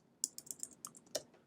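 Quick keystrokes on a computer keyboard while coding an algorithm, about eight distinct clicks in an uneven burst, close and fairly quiet, with no voice.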